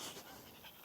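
A puppy panting out in open fields, quick soft breaths that are close but faint, over a short moment with no talking.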